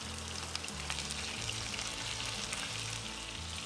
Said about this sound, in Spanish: en una sartén al fuego vamos a poner un buen chorreón de aceite de oliva y cuando esté caliente agregamos el pollo